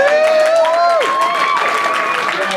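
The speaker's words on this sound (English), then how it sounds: "Give a big round of applause" Applause at a birthday gathering for Craig, a steady wash of clapping and crowd noise running throughout, with a sliding tonal whistle or cheer layered over it.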